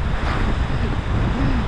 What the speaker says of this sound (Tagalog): Hindi ko talaga alam na ganito kalakas yung hangin